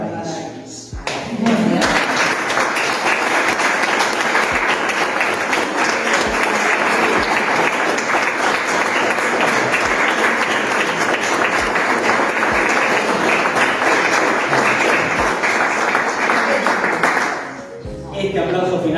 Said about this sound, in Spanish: este aplauso final es para Mark Twain